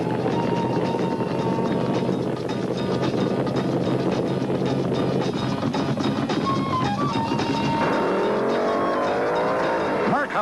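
Vintage drag racing cars at Rockingham, 1975, with loud, sustained engine roar near the line, building into a rising rev as one car launches; no talking.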